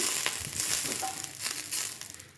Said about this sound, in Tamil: இனி நம்ம வந்து தோசையை சுட்டு எடுத்துக்கலாம்.